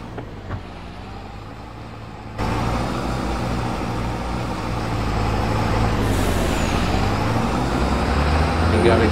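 An old Peterbilt truck on aggressive tires hauls corn, its close, steady roar of tire and engine noise jumping louder after a couple of seconds and then holding a dense, continuous drone.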